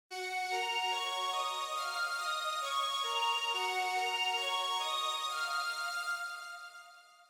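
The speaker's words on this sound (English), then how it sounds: "This is called Bright Breathy Pad." Bright Breathy Pad, a stock Pro Tools synth pad, holds sustained, airy chords that shift slowly for about seven seconds, then fade out at the end. No other sounds.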